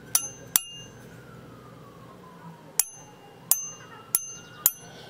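A Wonders of America silver art bar rings out several times after being struck, each sharp metallic clink followed by a bright, high, sustained tone that decays slowly; the strikes come at irregular intervals over a faint background hum.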